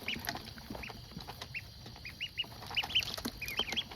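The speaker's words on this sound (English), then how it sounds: "These ducks are going crazy right now for this food." Young ducklings in a brooder feed eagerly, giving out many short, high peeping calls, some clustered and some overlapping, close by and growing busier toward the end over a soft scratchy background of pecking.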